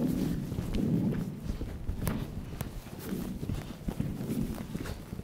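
Rhythmic hoof thuds of a horse moving around a show jumping course, irregular footfalls with sharper impacts, fairly close amid a faint arena background.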